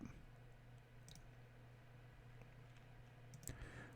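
Close, loud mouse clicking at a computer during a Pauper TRON Cascade card game, a couple of sharp clicks spaced seconds apart over a constant low electrical hum, with no speech.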